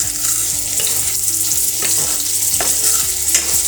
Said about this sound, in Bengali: এই যে পেঁয়াজ কুচিটা আমি করে রেখেছিলাম, পেঁয়াজগুলোকে সেইগুলো দিয়ে দিয়েছি এর মধ্যে